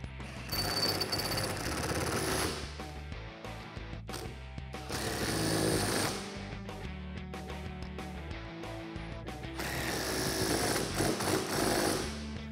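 An impact gun with a 14 mm socket tightens strut bolts on a Tacoma suspension lift, loud hammering bursts at close range separated by brief pauses and quieter mechanical rattling.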